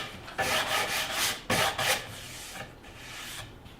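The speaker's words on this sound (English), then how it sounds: "Take your sanding block and give it a quick swipe on both sides." A few quick rasping strokes of a sanding block rubbing across a plywood edge band, close up, in short swipes separated by brief pauses.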